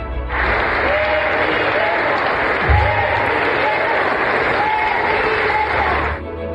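Sustained applause from a large crowd at a national bankers' convention, steady and dense for about 45 seconds, with faint voices and a few cheers mixed in before it tapers off.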